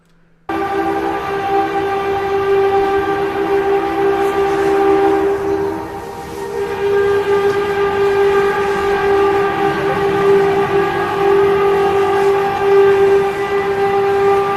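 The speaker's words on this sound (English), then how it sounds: "Like a foghorn siren." A mysterious sky sound resembling a foghorn siren, a loud sustained droning tone with strong steady harmonics that holds for the full length, dipping briefly midway, with no voices.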